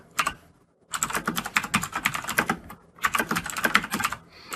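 Fast bursts of typing on a computer keyboard while values are entered into code, crisp rapid key clicks in two long runs separated by short pauses, close and clear with no voice.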